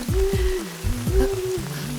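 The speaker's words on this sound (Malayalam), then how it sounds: "നല്ല മഴ അല്ലേ?" Heavy rain hisses steadily in the background while stronger tonal, voice-like sounds rise and fall over it for the whole short stretch.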